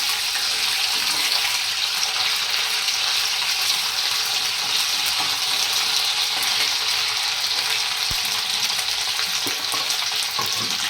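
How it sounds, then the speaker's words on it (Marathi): Spice paste with fresh curry leaves frying in oil for a Marathi rohu fish curry, giving a steady, dense sizzle throughout with faint stirring clicks, close and fairly loud, no voices. "ताजा ताजा असा कढीपत्ता टाकून घेऊया फोडणीला घेऊया ते चांगलं असं हलवून घेऊया पेस्ट तेलामध्ये असं छान भाजली पाहिजे"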